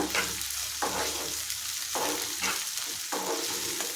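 Vegetables for a brinjal barbati curry fry in a pan with steady, dense sizzling, broken by several scraping stirs of the spatula at regular intervals, loud and close with no talking.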